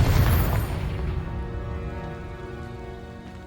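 A Confringo blasting spell detonates in Hogwarts Legacy, a loud close boom at the start whose rumble and crackling debris slowly fade over several seconds, with no talk.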